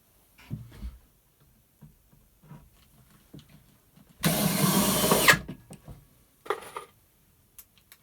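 A power screwdriver drives screws into beehive parts held tight in a jig, giving a single loud whir of about a second amid faint knocks and handling sounds.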